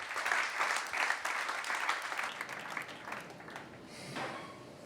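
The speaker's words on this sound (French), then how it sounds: "Et on peut les applaudir" An audience at an awards ceremony applauds continuously, a full, even patter of many hands that softens slightly near the end.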